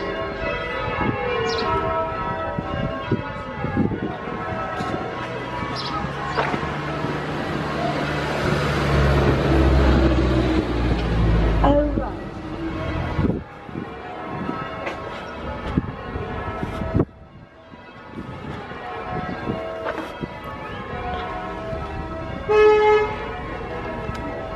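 A church bell rings in the Cotswolds, loud and close, its long booming strokes sustained and decaying over a busy outdoor background.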